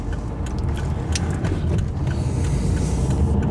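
A car driving, with a steady close engine and road rumble from inside the cabin, continuous and fairly loud.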